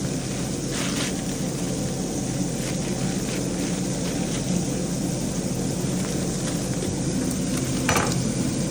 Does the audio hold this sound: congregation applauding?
no